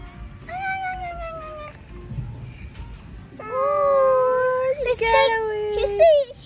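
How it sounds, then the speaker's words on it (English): A small kitten meows several times in high, drawn-out cries, with a longer, louder meow after a short pause, over faint background noise. "Cat sounds like a girl."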